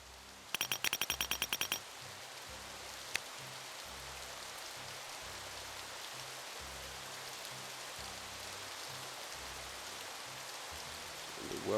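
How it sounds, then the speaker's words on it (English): Steady rain falling in the colonial survival game Colonize, set in 1600s Plymouth, a continuous soft hiss throughout, with a brief burst of rapid clicks near the start. "The well's getting more water from the rain"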